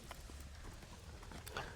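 Hooves of a young Marwari colt clip-clop at a walk on a horse farm, a steady near-field patter of hoof strikes with no voices over it.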